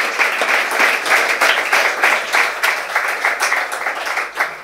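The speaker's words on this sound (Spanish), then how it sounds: "yo os pediría un aplauso para él" Audience applause for the winner of a sandwich contest at Terralimenta 2024 in Spain, a steady, dense round of clapping that fills the room throughout, loud and even with small swells.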